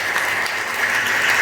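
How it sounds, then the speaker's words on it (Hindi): Steady, dense clapping from a crowd at a school event honouring a charitable trust, continuous and even throughout with no voices over it. "जोरदार तालियां इस ट्रस्ट के लिए एक बार फिर।"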